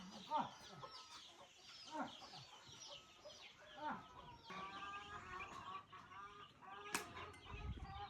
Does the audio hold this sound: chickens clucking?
yes